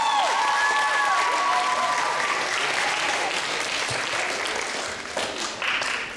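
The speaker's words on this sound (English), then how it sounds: "A wonderful round of applause for Mr. George." Applause from a jazz concert audience for a young string bass player, a full, sustained burst of clapping with some cheering, while a high tone fades out near the start.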